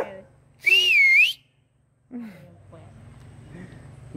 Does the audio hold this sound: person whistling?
yes